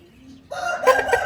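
A rooster vocalizes close by in short, loud bursts after a quiet start, a few clipped calls in quick succession.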